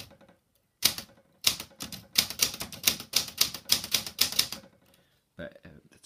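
An Olympia Traveller typewriter typed on black ribbon gives a run of crisp, close key strikes in quick bursts, pausing briefly and then finishing with a few more clacks.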